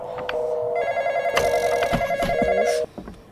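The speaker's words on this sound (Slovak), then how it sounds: "znova telefón" A telephone rings with steady electronic tones, close and fairly loud, joined by brief clattering knocks near the end before the ringing stops.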